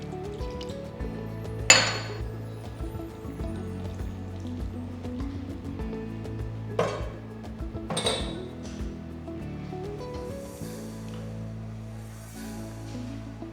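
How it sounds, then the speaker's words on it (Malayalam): Water splashes and sloshes around inside a mixer grinder jar being rinsed, with a few sharp clinks of the container and soft running water, no voices. "ഈ മിക്സി ജാറിലേക്ക് കുറച്ച് വെള്ളം ചേർത്ത് അതുകൊണ്ട് ഒന്ന് റിൻസ് ചെയ്തെടുക്കാം."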